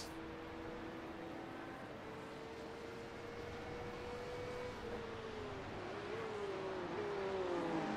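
Porsche Cup race car at Hockenheim pulling away after a spin, its engine note rising in pitch and climbing in loudness over several seconds from a distance.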